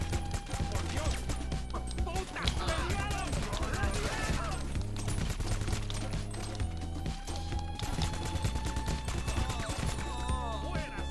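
Scattered gunfire during the Cayo Perico heist in the video game GTA, repeated shots and bursts under game music and effects while players talk throughout.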